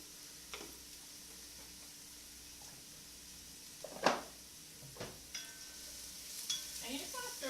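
Vegetables with garlic and a heaped tablespoon of dried oregano being stirred and sautéed in a pan for vegan cream of mushroom soup: faint, sparse scrapes and light sizzling, with a few sharper spoon strokes against a quiet background.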